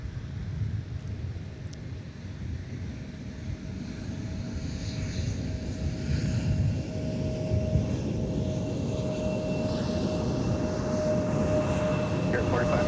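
A plane moves fast along the runway at MSP Airport, a low, steady roar that grows slightly over a constant background hum, heard at a distance and without speech.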